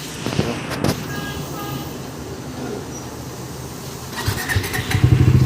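A Bajaj Dominar 400 motorcycle engine runs with a low rumbling drone that builds louder toward the end, with a few sharper bursts early on, close by.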